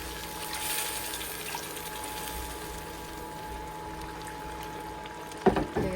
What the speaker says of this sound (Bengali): এখন আমি সামান্য গরম পানি দিয়ে দিচ্ছি।